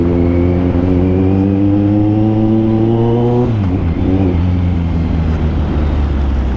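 A Kawasaki Z900 motorcycle fitted with a new exhaust idles loud and close in a steady, deep rumble, then briefly blips the throttle before settling back to a rough idle.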